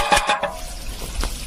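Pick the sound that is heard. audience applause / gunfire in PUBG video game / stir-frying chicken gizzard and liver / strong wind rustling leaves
stir-frying chicken gizzard and liver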